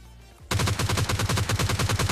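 Rapid automatic gunfire in a battle royale shooter game, a loud, close, steady burst of evenly spaced shots starting abruptly after a brief quiet moment, with no voices.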